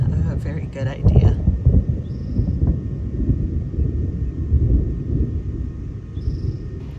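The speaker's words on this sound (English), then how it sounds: "Okay, so the storm is getting pretty bad" Thunderstorm heard from inside a truck, deep rumbling thunder rolling low and continuous with wind buffeting, and a person speaks briefly near the start.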